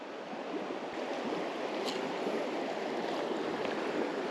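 Fast-flowing water at the head of a pool on the River Ayr, with a steady, dense rushing and hissing that stays loud and close throughout.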